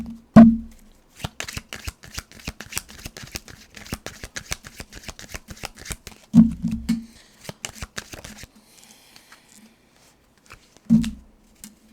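Tarot cards being shuffled by hand: rapid, crisp riffling clatters run for several seconds in bursts, with a few soft thumps and pauses between, close and fairly loud, no talking.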